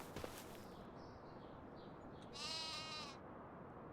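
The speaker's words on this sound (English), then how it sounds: "we do have quite a few goats in here" Goats bleat in the Farming Simulator 25 video game, a brief nasal bleat rising over steady background noise, with a short click near the start and no talking.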